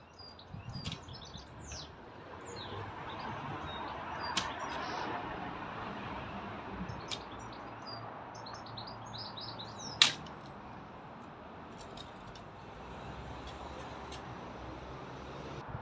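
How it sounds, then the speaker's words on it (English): Small birds chirp and tweet in scattered bursts over a steady wash of roadway traffic noise outdoors by a garden fence, with one sharper knock standing out partway through. "Listen to the birds in and amongst the noise of the traffic"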